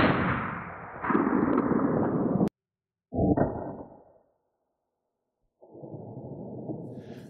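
A pistol with a 4-inch barrel fires into a Level IIIA armor vest, giving sharp loud reports with ringing impact noise and decaying echo. Several bursts are separated by silent gaps, heard near with no speech.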